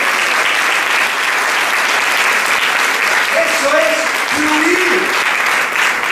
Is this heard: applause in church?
yes